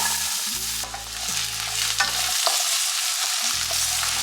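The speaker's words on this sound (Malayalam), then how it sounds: "ആദ്യം നമ്മൾ ഇതിലേക്ക് ഉരുളക്കിഴങ്ങ് ഇട്ട് കൊടുക്കാം." Potato pieces hit hot oil in a pan and sizzle steadily, with a spoon stirring and scraping through them in short strokes.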